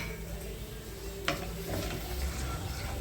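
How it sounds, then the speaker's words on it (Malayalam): Ingredients fry in hot oil in a pan while cooking menthaya (fenugreek leaf) rice, giving a steady close sizzle with a few sharp stirring clinks, no voices. "ഇത് നന്നായിട്ടൊന്ന് മൊരിഞ്ഞ് വരട്ടെ."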